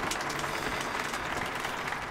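Crowd applause in the Red Theater of the video game Metro Last Light Redux, greeting a fire show: a steady, dense wash of clapping that fills the whole moment at moderate level with no voices.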